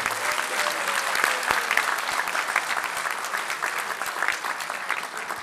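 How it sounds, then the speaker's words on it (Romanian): An audience at a municipal Social Democratic Party conference in Onesti applauds loudly and steadily for several seconds, dense clapping filling the hall with faint voices mixed in. "Ă, este vorba despre Valentin Blidaru, este ziua lui de naștere astăzi și așa că vă rugăm cu toții să-l aplaudăm"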